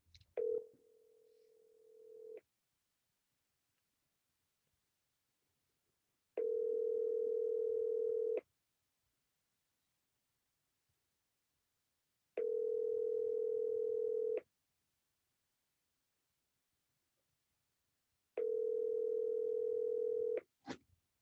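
Outgoing call on speakerphone: a steady telephone ringback tone sounds in long bursts of about two seconds, separated by roughly four seconds of near silence, with a faint click at the start and end.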